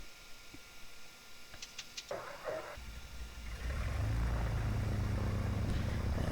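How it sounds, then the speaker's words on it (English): Right engine of a Piper PA-31 Navajo cranking and catching in the Prepar3D flight simulator, a few clicks giving way to a building, steady low engine rumble that grows louder and stays up near the end. "And start the right engine."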